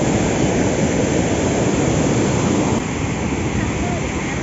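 A steady, loud roar of water released from Mettur Dam's 16-eye bridge in Tamil Nadu fills the clip, broadband and unbroken like a heavy torrent pouring nearby.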